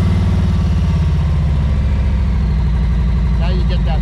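A 2021 Harley-Davidson Street Glide motorcycle with slip-on mufflers idles with a deep, throaty exhaust burble, loud and close, with a brief vocal sound near the end.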